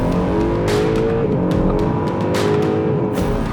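A Porsche 911 Turbo S engine accelerating hard, a loud close roar with rising gear pulls and brief shift breaks, heard alone without talk.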